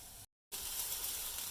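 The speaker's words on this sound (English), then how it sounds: "Onions and celery in, straight in, on top of the oil. And you can hear from the sizzle" Chopped onions and celery sizzling in hot oil in a pot for a Tuscan bean soup, a steady close hiss interrupted by a brief silent gap, then resuming loud and even.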